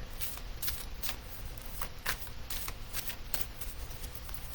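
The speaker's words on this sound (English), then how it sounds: "Beck, let's pull a card for you" Oracle cards being shuffled and drawn during a live card reading, a steady soft papery riffling with repeated crisp flicks, close and faint, no talk.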